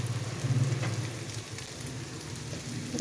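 Oil poured onto a hot piece of coal for smoking a chicken tikka pizza crackles and sizzles steadily, a close, soft hiss with no one talking.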